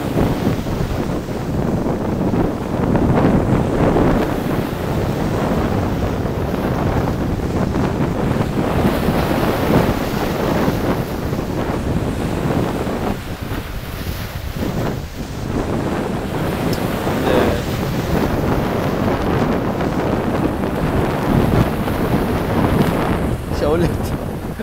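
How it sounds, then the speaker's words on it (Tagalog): Strong wind buffets the microphone at sea off the Cayman Islands during a fishing trip, a loud, continuous roar with waves and surf rushing beneath it and faint voices at times. "Dito talaga bumabagsak sa kanan Hangin kasi. Lakas."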